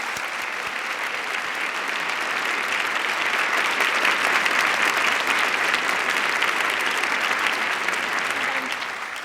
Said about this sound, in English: can we give Amy a fantastic round of applause?